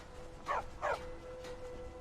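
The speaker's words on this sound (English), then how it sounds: "Stop barking at chickens." A dog in the Skyrim video game gives two sharp, close barks about half a second apart at a goat kid, followed by a fainter third bark, over a low steady background hum.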